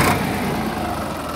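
A Sonalika DI 50 DLX 24-speed tractor engine runs steadily in gear, a continuous mid-pitched diesel drone, close and fairly loud with no speech over it.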